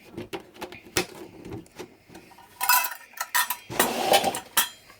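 Ingredients for no-salt, no-sugar oat bars being mixed in a bowl, heard as irregular clinks, scrapes and knocks of a utensil against the bowl, close by, with louder bursts of rapid scraping toward the end.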